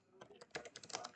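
Typing on a computer keyboard while entering a Composer command to create a Laravel project: a short run of light, irregular key clicks, close and fairly soft, with no talk.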